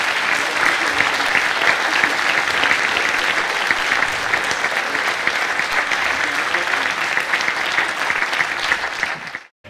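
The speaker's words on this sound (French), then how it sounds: "je crois qu'on peut tous les applaudir parce qu'ils l'ont bien mérité" Sustained applause from a conference audience at the close of a French-language colloquium, dense and steady throughout before cutting off abruptly at the very end.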